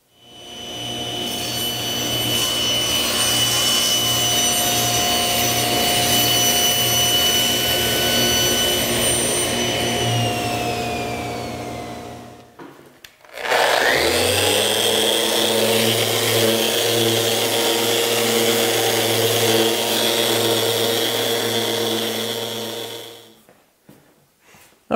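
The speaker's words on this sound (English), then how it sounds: "get a rough sanding on them" Power sander working wood cabinet side panels during milling: a loud, steady whirring grind in two long continuous runs separated by a brief stop, with no voices.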